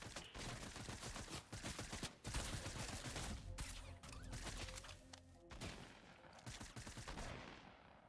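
Video game gunfire, played on a Xeon system with a Huananzhi X99 motherboard: dense, rapid bursts of shots and crashing impacts that continue almost without pause, loud and close throughout.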